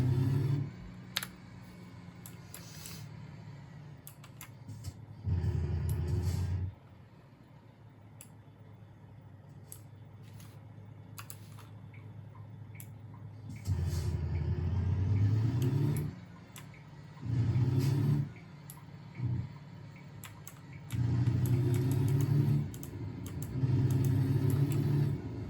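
Truck engine in a truck simulator video game, a low rumbling drone that surges loudly in repeated bursts and drops back between them, mixed with keyboard typing clicks.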